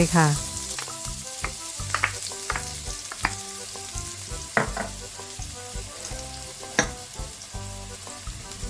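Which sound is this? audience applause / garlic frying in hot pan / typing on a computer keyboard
garlic frying in hot pan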